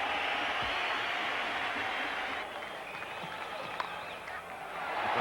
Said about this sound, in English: Huge cheer from everyone here.